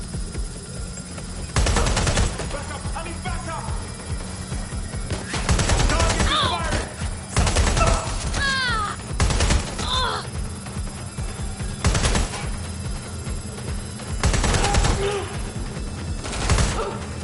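Bursts of automatic gunfire from enemy goons in the video game Watch Dogs Legion, with loud, rapid fusillades repeating every second or two across a busy scene while voices speak in between.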